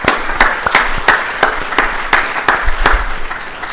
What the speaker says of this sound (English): I just want to give applause for him.